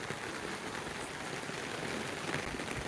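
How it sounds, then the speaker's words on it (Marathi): Rain falls in a village in Konkan, Maharashtra, an even, soft, unbroken patter and hiss of drops, fairly quiet and without any voices. "पाऊस आला"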